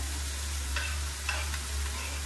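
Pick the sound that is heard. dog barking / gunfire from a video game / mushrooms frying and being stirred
mushrooms frying and being stirred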